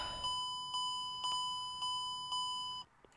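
Cockpit warning beeps in a Q400 turboprop flight simulator after landing: a repeating electronic chime sounding about every half second, six times, clear and steady, before cutting off.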